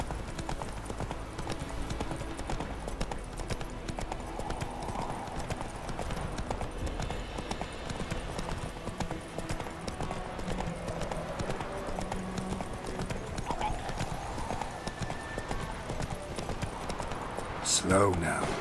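Hooves of the horse Roach clip-clop steadily at a gallop in The Witcher 3, a continuous rhythmic pounding under game ambience, with a voice speaking over it now and then.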